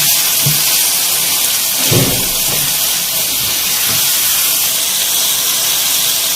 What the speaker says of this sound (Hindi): देखिए यहाँ पे हमारी चिकन भुनना स्टार्ट हो गई है।